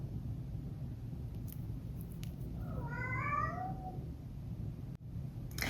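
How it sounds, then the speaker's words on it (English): A single drawn-out cat meow, faint and somewhat distant, rising and falling over a steady low background hum, with a few small clicks around it. "Sorry if you can hear Lilu in the background there meowing"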